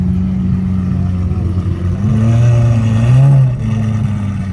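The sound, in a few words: SVJ supercar engine revving loudly through its exhaust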